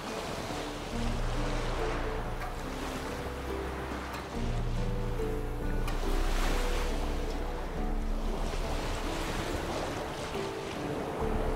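Waves slosh and rush against a sailing boat in The Witcher 3, with steady wind noise and a low droning hum underneath, continuous and fairly loud throughout.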